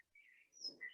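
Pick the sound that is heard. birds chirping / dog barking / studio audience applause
birds chirping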